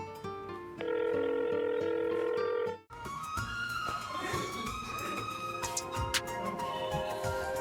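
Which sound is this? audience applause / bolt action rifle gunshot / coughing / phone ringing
phone ringing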